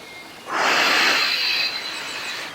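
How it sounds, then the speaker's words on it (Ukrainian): A single long, audible exhalation of breath during a lung rehabilitation breathing exercise, close and breathy, swelling then tapering off. "Видих. Вдих. Видих. Вдих."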